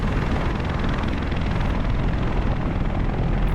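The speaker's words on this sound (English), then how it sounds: "This helicopter's flying over. Look at that, a CH-53C Stallion." In DCS World, a CH-53C Stallion helicopter passes overhead with a steady, heavy rotor thrum and engine drone, loud and constant throughout without any talking.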